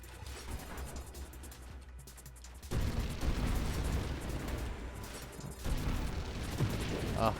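Explosions in the space shooter game Nova Drift, dense bursts and crackling blasts that jump louder partway through and keep rumbling, mixed with faint game effects under a low background.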